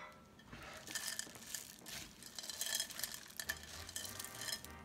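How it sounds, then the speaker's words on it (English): Cookie dough with chocolate chips is stirred and folded in a bowl, giving soft, faint scraping and clinking strokes in an uneven rhythm, close by and without talk. "Combine until there are no more flour pockets remaining, about 1 minute."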